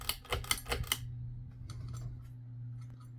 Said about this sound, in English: That's just the pull chain beating up against the light fitter.